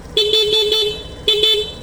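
A stock Suzuki Burgman scooter horn honks in two short bursts, loud and close, the first slightly longer than the second.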